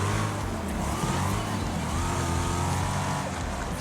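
A car engine in the Wreckfest racing video game drones loudly and steadily, its pitch rising and falling as it revs, under a constant dense roar with no speech.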